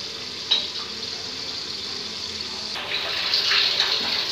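A tablespoon of oil goes into a biryani pot and sizzles, a bright crackling hiss with small pops that swells slightly near the end.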